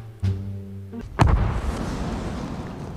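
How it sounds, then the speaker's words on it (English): A cartoon explosion goes off outside after a sustained tone, a sharp, loud blast followed by a long rumbling, crackling decay. "I heard an explosion outside!"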